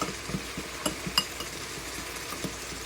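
Spoon scraping and tapping in a pot while stirring flour into oil for a chicken pot pie mix, soft irregular strokes with a few sharp clinks against the rim, close and quiet.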